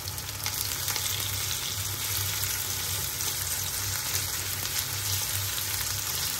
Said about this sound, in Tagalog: isa-gisahin natin hanggang sa mag-brown yung ating pork slice